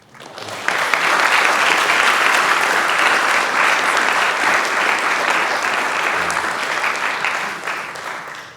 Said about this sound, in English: just a show of hands or a round of applause